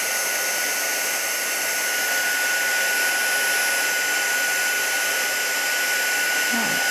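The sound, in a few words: heat embossing tool melting embossing powder on gift bag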